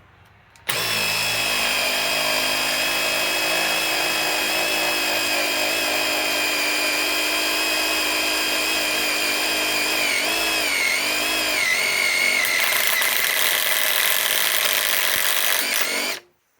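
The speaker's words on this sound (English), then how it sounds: "Let's try to put it in this same hole" A Metabo HPT WH18DC triple hammer impact driver, running on a 2.5 battery, drives a fastener into an existing hole: a loud, continuous high-pitched whirring hammer rattle that holds steady, dips briefly, then climbs in pitch before stopping abruptly.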